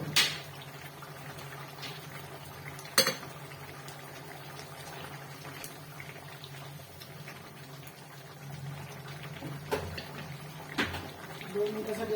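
Kolhapuri chicken curry simmering at a steady boil in a pot, a soft continuous bubbling hiss with a few sharp clicks and knocks scattered through.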